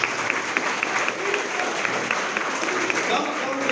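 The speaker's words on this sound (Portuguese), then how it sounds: "Você pode aplaudir mais uma vez?" Wedding guests clap steadily together, a dense, fairly loud patter of many hands, while a few voices and some murmuring carry faintly under the applause.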